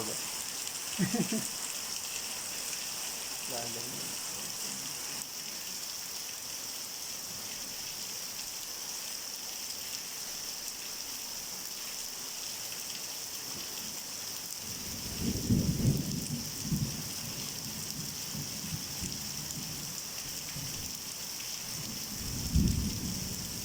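Heavy rain pours steadily in a steady hiss on a tarpaulin-covered shelter during a severe monsoon downpour, with rolls of thunder rumbling low at intervals and faint voices heard under the storm.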